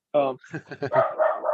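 A dog barks indoors in a quick cluster of several close, loud barks and yips, heard alone without talk.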